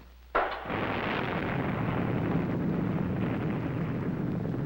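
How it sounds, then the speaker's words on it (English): A sudden massive explosion bursts out, then a sustained, loud roaring rumble that continues without letting up. "In the heat and force of massive explosions"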